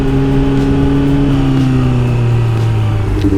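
Motorcycle engine running steadily while riding, a continuous loud droning hum with slowly shifting pitch, close and alone with no talking.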